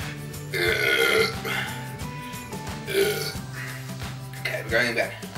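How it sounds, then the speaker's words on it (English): Several loud, drawn-out burps, repeated about three times, come from a person chugging cider from a beer boot, mixed with groans and talk. "Come up for the burp."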